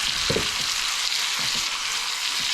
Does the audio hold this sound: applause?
no